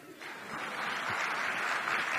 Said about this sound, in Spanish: Un aplauso para mi marido